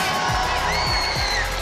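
A volleyball match crowd roars in a brief, steady swell of cheering, loud and sustained throughout, with scattered whoops rising above the mass of voices.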